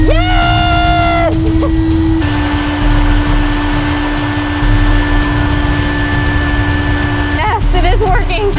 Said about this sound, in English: Oh, no more vacuum.